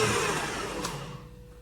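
A stand mixer runs at a higher speed while kneading burger bun dough, giving a steady whirring motor hum that fades slightly toward the end, with no talking.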